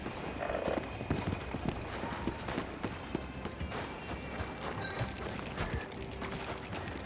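Horses clip-clopping at a trot in Red Dead Redemption 2, the hoofbeats steady and continuous beneath dense game ambience of wheels, wind and rumble, with a brief whinny-like tone early on.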